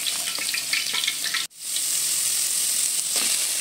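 Carrots and Baguio pechay stems stir-frying in a hot pan, a loud continuous sizzle with brief scraping stirs, cut by one sharp momentary dropout before the sizzling resumes at full strength.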